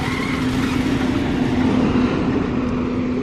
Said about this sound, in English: There was a loud truck going by